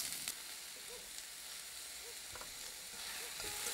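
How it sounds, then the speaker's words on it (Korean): Onion fries in a lightly oiled pan for japchae, a soft, faint, continuous sizzle with occasional small pops and stirring sounds and no talking. "팬에 식용유를 조금만 두르고"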